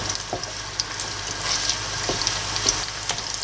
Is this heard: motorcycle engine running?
no